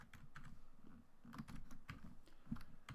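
Keys clatter on a computer keyboard while a first program is typed on Linux, a steady run of quick, soft clicks and taps with small pauses, close and clear with no talking.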